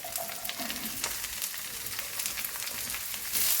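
Broad beans frying in a non-stick pan with little oil, a steady close sizzle with occasional crackles and a few soft stirring clinks throughout.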